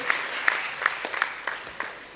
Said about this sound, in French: Sur vos applaudissements, mesdames et messieurs,